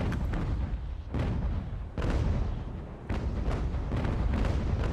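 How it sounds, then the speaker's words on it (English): Broadside cannon fire from wooden sailing warships in the naval battle game Ultimate Admiral: Age of Sail, three heavy booming volleys rolling into one another at close range, with a loud rumbling tail between shots and no talk. "Fire your guns"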